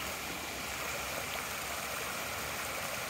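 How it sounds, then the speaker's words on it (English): Flood water rushes steadily at a homesite after days of rain, a constant broad roar of flowing water close by with no voices. "Just see how much water there."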